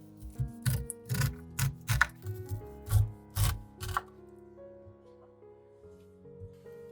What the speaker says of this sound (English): use a sharp knife to gently peel the kernels off the cob